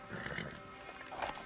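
Horse whinny from the video game Red Dead Redemption II, a brief neigh over busy game ambience with hoofbeat-like clatter, moderately quiet throughout.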